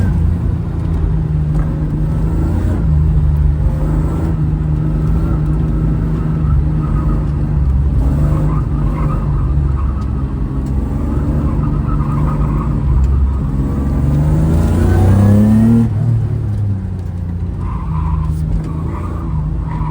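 Race car lapping Thompson Speedway, its engine droning loud and steady for the whole stretch, with a rising pitch sweep and tire squeal near the end as the tires are warmed.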